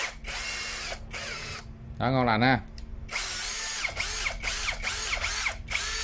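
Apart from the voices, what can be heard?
cordless drill running, 13 mm chuck, 2000 rpm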